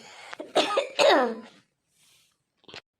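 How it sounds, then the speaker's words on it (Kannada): Two harsh coughs in quick succession, fairly close and loud, followed by a faint throat-clearing rasp after a short pause. "ಯಾಕೆ ಕೆಮ್ಮು ಯಾಕೆ ಶುರುವಾಗಿದೆ?"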